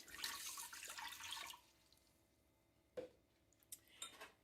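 Water poured from a cup into an Instant Pot with a rack in the bottom, a short splashing pour followed by a few faint clinks and drips.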